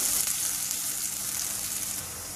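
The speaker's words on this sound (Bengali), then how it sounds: "কাসুন্দি দিয়ে আমি কিছুক্ষণ কষিয়ে নিলাম" Fried chilies sautéing with kasundi mustard sauce in a pan over low heat for a raw mango pickle, giving a steady, close sizzle and frying hiss with no talk.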